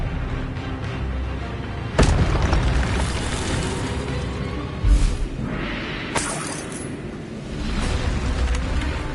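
Expelliarmus spell effect from the Hogwarts Legacy video game: a sharp shattering crack followed by booming bursts and rumbling, with several further impacts scattered across a dense magical soundscape.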